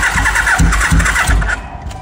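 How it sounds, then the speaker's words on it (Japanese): A mk2 motorcycle that has sat unridden cranks and catches, several rhythmic low engine pulses close by, then settles briefly toward idle as it fades at the end. "あ、これエンジンがずっと乗ってないとかからんのだ"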